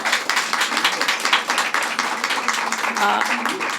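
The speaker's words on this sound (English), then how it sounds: "Let's give her a round of applause." A crowd applauding at a New York governor's announcement in Brooklyn, dense clapping that keeps going, with voices calling out over it.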